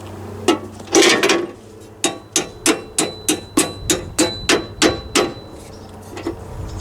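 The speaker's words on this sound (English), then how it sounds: "Where's that hammer?" Hammering close by while fitting a toolbox onto a Massey Ferguson 35 tractor: about a dozen sharp metallic strikes in a steady rhythm, a couple of irregular knocks first, then a final lighter tap.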